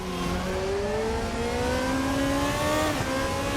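Race car engine in RaceRoom Racing Experience, an FR2 single-seater at Zandvoort, revving hard under heavy throttle out of a corner, a loud continuous drone with pitch climbing through the gears and a brief dip near the end.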